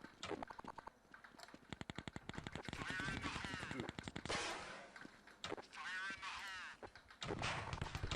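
Rapid automatic gunfire bursts from Counter-Strike 1.6, played on a paintball map, rattle out in dense repeated volleys, close and loud, broken by short pauses, with a player's voice heard over the game action.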